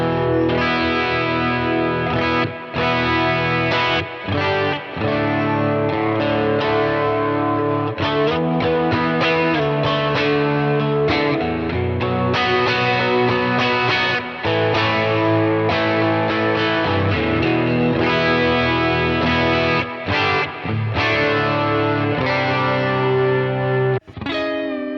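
An electric guitar is played through a Quad Cortex preset modeled on a Morgan amp, with continuous distorted chords and riffs carrying chorus and effects coloring, loud and upfront, with no voice over it.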